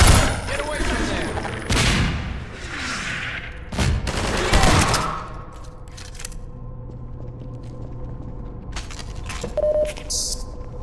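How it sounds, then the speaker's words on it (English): Automated turrets open fire in the Half-Life 2 VR video game, loud bursts of rapid gunfire in several waves with a shout over them, then sparse electronic beeps and tones trailing off. "These fucking turrets, dude."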